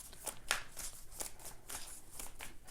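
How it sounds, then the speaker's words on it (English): Oracle cards being shuffled by hand, a series of crisp riffling and slapping bursts in an irregular rhythm, close and fairly soft, with no talking. "I'm going to shuffle a little bit more"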